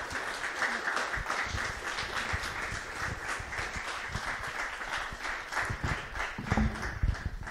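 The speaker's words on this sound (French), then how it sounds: "Et je pense qu'on peut l'applaudir." Audience at a literary talk breaking into sustained applause, dense clapping from many hands throughout, fairly close and even.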